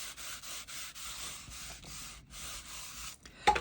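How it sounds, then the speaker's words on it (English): Paper strip burnished down onto card with a tool makes a rapid, close rubbing and scraping, short repeated strokes in quick rhythm with brief pauses and a sharper tap at the end, no voices. "I'm just going to burnish that down."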